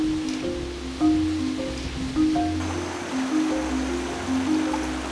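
Water flowing in a river running through hill country toward a lake, a steady broadband rush close by with soft tonal sounds above it.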